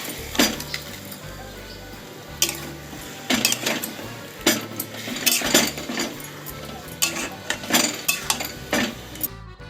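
Marinated chicken being stir-fried in a pan over low to medium flame, with repeated scraping and clattering of a spatula against the pan, close and busy, and a faint sizzle underneath.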